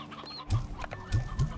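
A chicken clucks in a video game, giving three or four short low clucks in quick succession, close and moderately loud over faint game background sounds.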